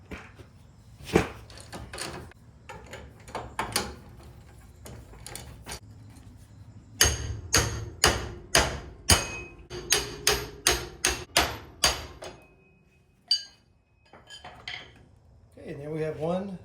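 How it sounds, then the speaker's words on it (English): Sharp metallic hammer strikes on a pickle fork, driven in to break a tie rod end loose on a 1963 Chevrolet C10 front suspension: scattered knocks, then a rapid run of loud blows, with brief talk between. "we'll take our pickle fork and hopefully break it loose"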